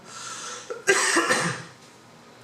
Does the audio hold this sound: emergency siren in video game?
no